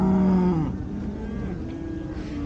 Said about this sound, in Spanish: vacas o toros de raza